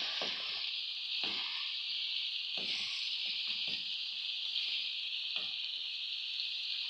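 Potatoes dropped into a frying pan set off a steady, bright hiss of sizzling oil, with soft knocks and rustles as pieces go in and shift about over the sizzle.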